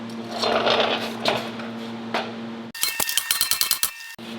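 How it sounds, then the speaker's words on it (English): A rubber mallet strikes a bent metal shelf to straighten it, landing as a quick burst of about ten ringing metallic hits after a stretch of background hum. "I'm going to get a big rubber mallet, and I'm just going to bend it straight a little bit"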